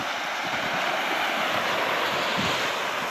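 Waves washing onto a beach on Eleuthera Island, Bahamas, a continuous broad roar of surf mixed with wind buffeting, steady and fairly loud throughout.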